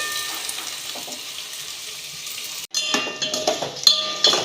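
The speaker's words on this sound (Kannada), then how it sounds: "ಬೆಳ್ಳುಳ್ಳಿ, ಶುಂಠಿ ಎಲ್ಲ ಹಾಕಿ ಫ್ರೈ ಮಾಡ್ತಾಯಿದ್ದೀನಿ." Onion, garlic and ginger fry in a pan with a soft, steady sizzle, broken midway by a sharp clatter of stirring and louder crackling bursts, heard close with no talk.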